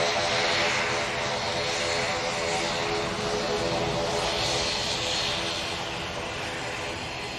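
Engines of a twin-propeller airliner at an airport give a steady, loud droning roar with a slowly shifting whine, heard continuously from a moderate distance with no pause.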